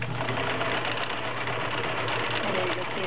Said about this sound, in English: Fabric working up and back on the stretch stitch.